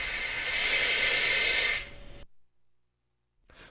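An MSA Firehawk breathing regulator with its bypass open lets out a loud, steady rush of airflow hiss for about two seconds, then cuts off into silence before a brief final puff of air.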